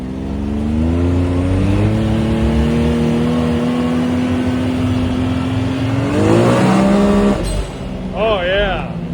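A Can-Am X3 side-by-side with a cat-delete exhaust roars loudly on sand dunes, holding a steady engine drone before revving up sharply, with voices heard over the engine.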